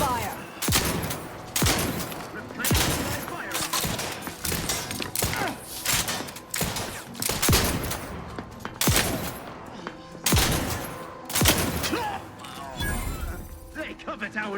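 Rapid gunfire in the sci-fi shooter Outer Worlds 2, with loud, dense bursts and repeated shots cracking close throughout amid impacts and game sounds, with voices talking over the combat.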